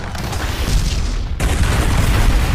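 A large movie bomb detonation in a mercenary action scene, a loud sustained roar of blast and debris with a sharp second surge midway, filling the whole clip and then cutting off abruptly.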